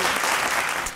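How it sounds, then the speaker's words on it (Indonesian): A Sunday school congregation applauds God in a burst of dense, steady clapping from a crowd that fills the whole moment, with no talking over it. "kasih tepuk tangan buat Tuhan kita yang luar biasa"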